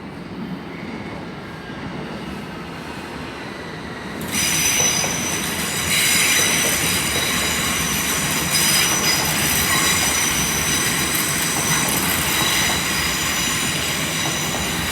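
A terminating Heathrow Express Class 332 unit rolls into London Paddington. The rumble swells sharply partway through into loud rolling noise with high, sustained wheel squeals, and no voices are heard.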